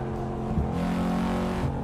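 A racing game car driven on a Moza sim rig through heavy traffic, its engine holding a steady, loud high-revving drone with harmonic whine and a slight pitch wobble throughout, no voices.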